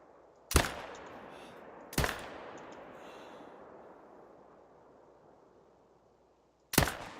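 Rifle shots in theHunter: Call of the Wild hunting game: three sharp, loud reports, two close together and a third after a pause, each followed by a long fading echo rolling across open terrain.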